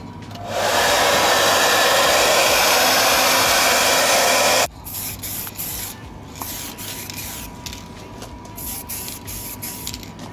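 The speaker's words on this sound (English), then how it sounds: "we're going to use the hairdryer and heat up the panel first and apply it" A hair dryer blasts a steady, loud airy roar for about four seconds while warming a Mini Cooper headlight surround panel before spray painting, then cuts off, leaving quieter handling noises and light rubbing.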